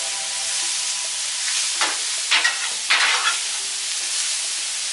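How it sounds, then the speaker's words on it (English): Bell peppers sizzling on a Blackstone 22-inch griddle, a steady close frying hiss with a few louder scraping bursts as they are tossed. "give these peppers one more toss"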